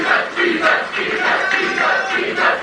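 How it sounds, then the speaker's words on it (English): A large political rally crowd cheers and chants "Jesus" in unison, a loud, rhythmic mass of voices rising and falling in repeated pulses. "They start chanting Jesus, Jesus, Jesus."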